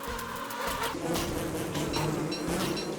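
Bees buzz continuously in a video game, a dense, steady insect drone that stays at moderate volume throughout, with no voices.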